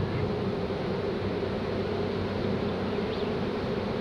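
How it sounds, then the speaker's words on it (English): Honey bees buzz densely around a ten-frame hive box as a nuc colony is moved in, a steady close drone with no pauses. "I'm just gonna smoke the bees off inside the box."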